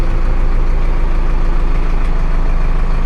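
A Zetor Proxima tractor engine runs loud and steady from inside a fairly quiet cab, a constant low diesel drone with no breaks or talk.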